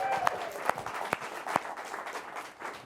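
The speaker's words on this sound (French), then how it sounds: "surtout une bonne main d'applaudissements pour David" An audience applauds a guest, David Thibault, on a Quebec variety show; a steady wash of clapping runs throughout with a few sharper claps standing out, moderately loud and continuous.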